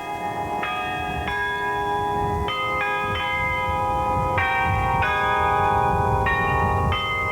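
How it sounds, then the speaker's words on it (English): Church bells peal across a city, several bells striking overlapping tones in a steady, ringing sequence that sustains throughout, moderately loud and heard alone. "And then came the peal of church bells across the city, across the state, and across the country."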